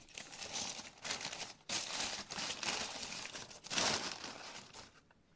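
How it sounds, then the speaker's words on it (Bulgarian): Paper wrapping around porcelain cups is crumpled and torn open during unpacking, giving continuous close crinkling in bursts with brief pauses and a louder rustle near the end; no voices. "Тук са малко по-добре опаковани, макар и с хартия."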